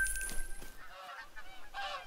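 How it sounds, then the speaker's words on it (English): A flock of geese honking in The Hunter: Call of the Wild video game, hunting in the Hirschfelden area; several overlapping honks sound at moderate distance, rising and falling over a low ambient background. "I have another big flock of geese coming down"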